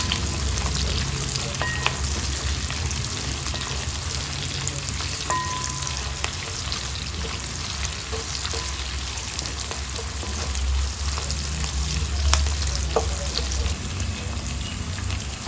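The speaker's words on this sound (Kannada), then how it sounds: "ಒಂದು 6 ಹಸಿರು ಮೆಣಸಿನಕಾಯಿ, ಒಂದು 2 ರೆಕ್ಕೆಯಷ್ಟು ಕರಿಬೇವು ಸೊಪ್ಪನ್ನು ಹಾಕ್ಕೊಂಡು ಫ್ರೈ ಮಾಡ್ಕೊಳ್ತೀನಿ" Onion, green chilies and curry leaves frying in a pan, a continuous crackling sizzle with occasional faint clicks of stirring, steady and close over a long stretch with no speech.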